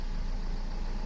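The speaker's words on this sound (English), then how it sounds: "It sounds fucking sweet, this engine." A rebuilt truck engine idles steadily with its timing cover off, a continuous low rumble filling the short stretch with no pauses or voices.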